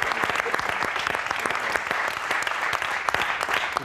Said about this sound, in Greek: Και ένα χειροκρότημα, σας παρακαλώ πάρα πολύ.